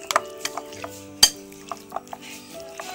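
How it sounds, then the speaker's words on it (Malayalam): A spoon stirs spiced chicken masala in a pan for a Kerala-style chicken roast, giving sparse metallic clinks and scrapes, one sharp clang partway through, with no talking. "എല്ലാം കൂടി ഇട്ട് നന്നായിട്ട് മിക്സ് ചെയ്തെടുക്കാം"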